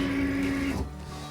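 A Cricut cutting machine whirs steadily as it draws a fabric mat loaded with terry cloth, then shifts to a lower motor hum partway through.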